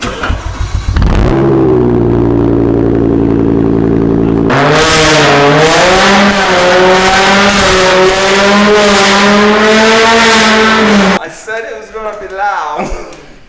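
A straight-piped BMW M6 with a DCT-swapped V10 revs hard, its exhaust loud and close: a steady idle, then a sustained high-rpm howl that rises and holds before cutting off into quieter crackles.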